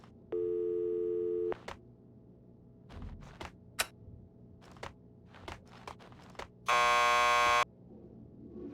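Door buzzer in the Max Payne 2 video game, two loud flat electronic buzzes over a second long each with a pause between, plus scattered sharp clicks and taps in a quiet room.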